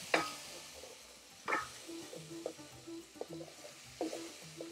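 Spices and onions cooking in a pan for a restaurant-style curry base, heard as a quiet, low sizzle with occasional clinks and scrapes from a utensil against the pan.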